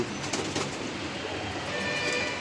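Racing pigeons coo softly inside a loft room, a steady murmur of several birds under light background noise, with occasional faint wing or shuffling sounds.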